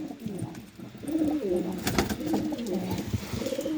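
A wild feather-footed pigeon coos in low, soft, repeated rolling calls, close by, with a brief sharp rustle midway.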